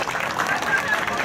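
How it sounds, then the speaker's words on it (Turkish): A basketball championship crowd at a 3x3 tournament applauds, a dense, steady wash of clapping and crowd noise mixed with background voices. "Ona bir kocaman alkış istiyoruz."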